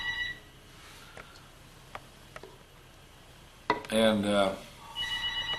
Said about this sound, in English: Uh-oh, phone's ringing.